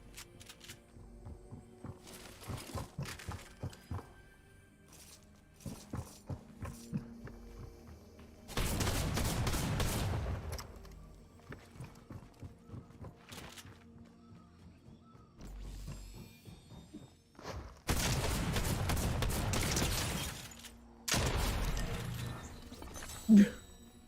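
Drum shotgun fire in the Fortnite video game: two long, loud bursts of rapid blasts, then a shorter one, over quieter clicks, footsteps and mechanical in-game sounds.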